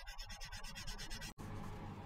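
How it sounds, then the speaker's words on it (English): Steady back-and-forth rubbing of a Tamiya foam sanding sponge against the curved plastic fuselage of a 1/48 Airfix Fairey Gannet model kit, a continuous scratchy swishing with a brief gap near the end. "I'm going to turn to a foam sanding sponge"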